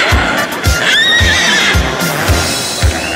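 A horse whinnies loudly and close by in a drawn-out neigh, with rhythmic hoof-like thumps underneath and a steady crowd or street din around it.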